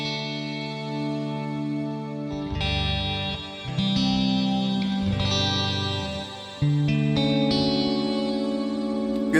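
Sustained electric guitar chords through an Archetype Gojira with delay and reverb on wash out in long echoing repeats and a shimmering, swelling reverb tail, played alone with no voices.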